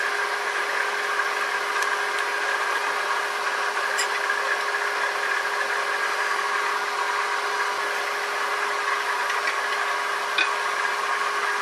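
A wood lathe spins steadily while a spindle detail gouge shapes a hollow Christmas ornament sphere, giving a constant, fairly loud hum and hiss with a steady tone and a few faint ticks of the tool on the wood.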